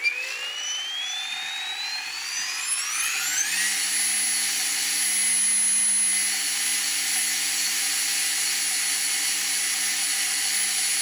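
An electric RC helicopter motor spins up and then holds a steady high whine under governor control, the pitch rising quickly near the start before settling into a constant tone, close and without talking.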